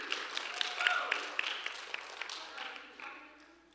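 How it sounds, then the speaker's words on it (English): Soft applause from a church congregation during a morning worship service for the year's team leads: quiet, fairly distant claps that gradually fade, with voices mixed in. "let's give a big round of applause for our team leads this year"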